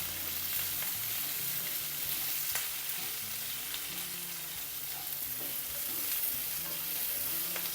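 Shallots sizzling in hot oil in a pan for a fish curry, a steady close crackling fry with occasional stirring clinks, continuous and without speech.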